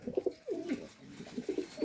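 Racer pigeons coo in a close, soft series of throaty, rolling calls, several overlapping phrases repeating in a steady rhythm with no talk.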